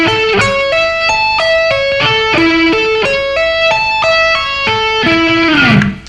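Slow electric guitar arpeggio phrase built on sweeps, hammer-ons and tapping, each note ringing clearly in a steady cascading pattern, loud and close with no voice.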